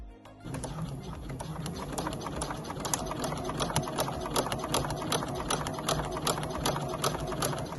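A sewing machine runs practice stitches on scrap fabric, a steady close mechanical whirring with rapid regular needle ticks that continues without a break.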